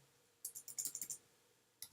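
Close computer keyboard typing while writing CSS code, a quick burst of about nine soft key clicks followed by a single tap after a short pause, quiet with no voices.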